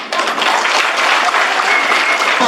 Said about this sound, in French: Je voudrais quand même un peu d'ovation.